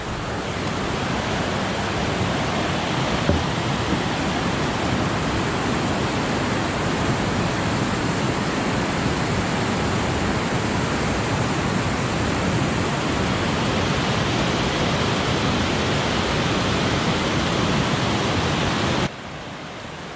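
The Thompson River rushes past on the Foothills Trail as a loud, steady broadband roar of flowing water. It continues unbroken and then drops suddenly in level near the end.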